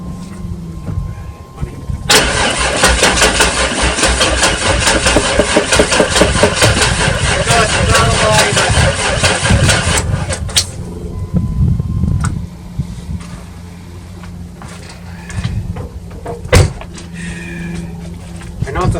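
A 1996 Chevy Tahoe engine cranks hard for about eight seconds in a loud, rhythmic starter whir, then falls quiet without catching, leaving low background noise and a single clunk.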